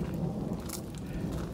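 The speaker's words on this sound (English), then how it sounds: "still thundering, lightning a little bit" Thunder rumbles low and steady during a mountain storm on the Appalachian Trail, with rain pattering over it and a brief brighter crackle midway.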